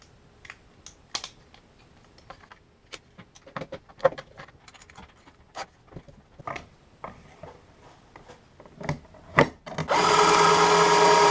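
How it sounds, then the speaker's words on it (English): A power drill boring pocket holes into a wooden gate frame bursts in loud and steady near the end, after a run of scattered light clicks and taps. "Now that we've gotten our pocket holes drilled"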